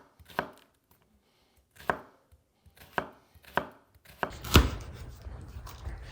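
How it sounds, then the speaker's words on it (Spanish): A knife chops onion on a cutting board, finely diced for a Cuban rice dish: about six sharp, separate strikes, the last one heavier and followed by a scraping rustle, with no voices. "vamos a proceder a picar la cebolla a la jardinera o en brumoise"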